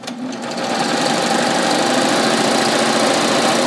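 BabyLock Ovation serger running at speed as it chains off past the fabric edge, a loud, continuous whirring hum that swells within the first second and holds steady, up close and alone.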